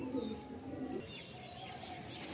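Pigeons coo softly and steadily in a loft holding pairs of Andhra pigeons, a low continuous murmur of overlapping calls with faint rustling and no talk.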